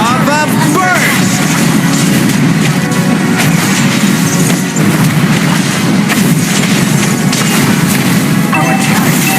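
Valir's Lava Burst skill effect in a mobile MOBA battle, a dense roaring boom and crash layered over continuous game music, announcer voice and battle noise, loud throughout.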